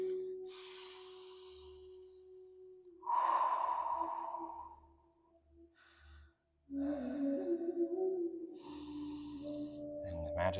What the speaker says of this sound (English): You want to make it back into long and slow breathing.